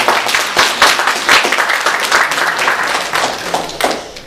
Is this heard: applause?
yes